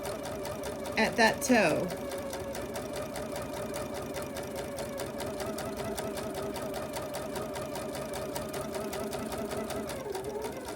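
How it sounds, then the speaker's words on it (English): A sewing machine runs a steady, continuous stitch down a quilted piece backed with Insulbrite, its close mechanical whir holding even throughout, with a brief voice speaking near the start. "I'm going to backstitch just a couple stitches, and then we're just going to go straight down"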